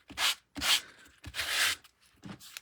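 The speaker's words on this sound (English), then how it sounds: "let me go ahead and sand this piece first, Forever Plaid" A sanding block rubs across embossed two-tone card stock in four short, scratchy strokes, close up and fairly quiet, with brief pauses between them.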